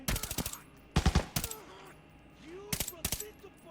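Bursts of automatic gunfire in the Arena Breakout shooter game, several rapid volleys of four to five close, sharp shots separated by short pauses, with a voice speaking faintly between them.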